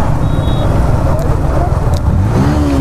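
A Yamaha R15M motorcycle engine running loud and close with a rough, pulsing exhaust note, while people talk over it.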